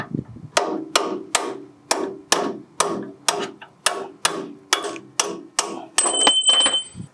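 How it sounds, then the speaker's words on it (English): A hammer drives a punch against a stuck front strut bolt on a 2004-2008 Ford F150 2WD, striking about a dozen sharp metallic blows at a steady rhythm, loud and close, with a brief ringing tone near the end. "you can grab a little punch and then just tap it out"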